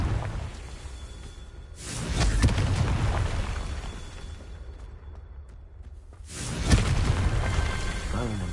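Booming blasts from the Confringo fire spell in Hogwarts Legacy, two loud explosions with whooshing rushes and rumbling tails, separated by a quieter stretch with speech present.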